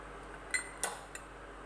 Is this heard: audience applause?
no